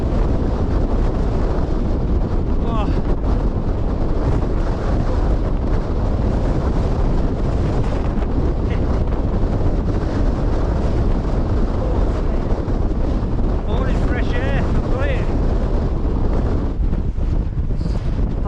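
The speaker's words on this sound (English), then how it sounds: "Oh, that is gusty. Oh, it's brutal up here." Strong, gusty wind buffets the microphone on an open moor in the Northern Pennines, a constant loud rumbling roar with surging gusts and no voices.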